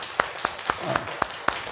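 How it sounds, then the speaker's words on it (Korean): A church congregation claps in a steady, even rhythm of about six sharp claps, moderately loud and close, with a faint voice murmuring underneath. "박수 한번 쳐주십시오"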